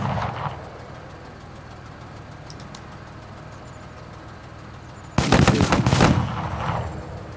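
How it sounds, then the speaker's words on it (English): Gunfire from a pipe gun in the video game MENACE: a brief thud at the start, a quiet stretch, then a loud, rapid burst of shots lasting about a second that trails off into lingering noise. "we're going to go ahead and just put some pipe gun shots into them"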